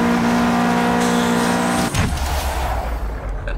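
Racing car engine in the Forza Horizon 3 driving game, a steady high revving drone that cuts out abruptly midway, followed by a lower rumbling engine with tire noise, loud and close.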